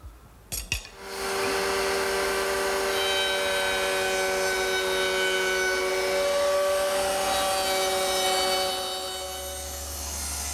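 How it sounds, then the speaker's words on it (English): A router fitted with a quarter-inch radius round over bit cutting wood: a few clicks, then the motor spins up to a steady high whine with tonal harmonics, held for several seconds before winding down, close by. "Now I've switched to a quarter inch radius round over bit to make the smaller profile."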